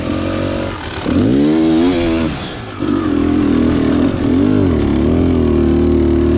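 A Beta Xtrainer 300 enduro motorcycle climbing through rocks at a hard enduro training area, its two-stroke engine loud and close, revving up and down in second gear with steady throttle surges.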